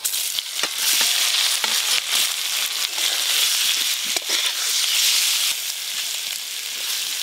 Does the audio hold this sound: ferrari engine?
no